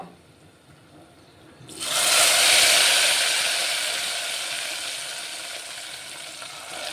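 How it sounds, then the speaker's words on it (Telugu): Cooked lentils tipped into a hot tempering in a pan, with gongura dal being made, bursting into a loud, steady sizzle after a quiet opening that slowly eases off but keeps hissing to the end. "ఇప్పుడైతే ఇందులో పప్పు వేసుకుంటాను నేను"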